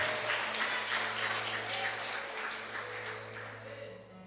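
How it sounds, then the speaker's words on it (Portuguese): A congregation at a church deliverance service claps continuously at moderate volume, a steady patter of many hands over a low hum, gradually fading slightly toward the end. "por favor, aplauda ao Rei Jesus nessa hora."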